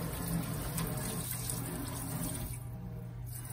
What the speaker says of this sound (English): I just kind of rinse using a couple different methods so that your sink gets